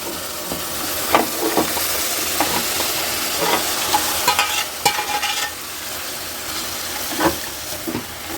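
Boiled goat meat goes into a pan of browned onions and fries with a loud, steady sizzle and hiss. Occasional clinks and scrapes of stirring come through, and no one speaks.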